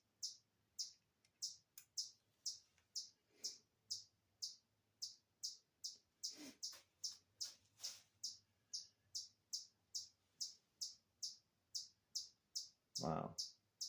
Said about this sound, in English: Chipmunks are grooving. You can hear them chirping.